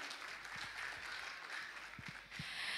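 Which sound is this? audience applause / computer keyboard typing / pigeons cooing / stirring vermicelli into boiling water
audience applause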